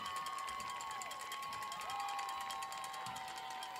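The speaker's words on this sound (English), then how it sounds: "A round of applause for your Hyde Park Panther dance team." A crowd at a Hyde Park vs. Regents high school football halftime show cheers and claps for the Hyde Park Panther dance team, faint and distant beneath sustained tones.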